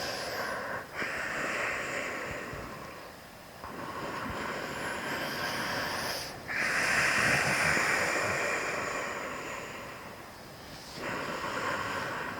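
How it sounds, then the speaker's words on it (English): Slow yoga breathing during a full-body stretch, long airy inhalations and exhalations alternating in a calm rhythm over several cycles, close and fairly soft, with no talking. "So breathe in and out."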